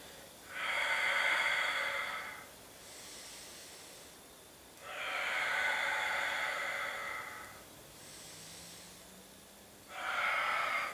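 Slow, audible breaths during a Pilates leg exercise: three long breathy exhales alternating with two softer inhales, close to the microphone, with no speech.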